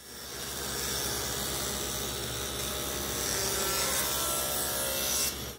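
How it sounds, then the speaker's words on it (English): A saw rips a 2-inch strip lengthwise from a walnut board, a steady continuous rasping cut that runs close and loud for about five seconds before stopping abruptly. "Now I'm starting off by ripping a 2-inch piece from the walnut."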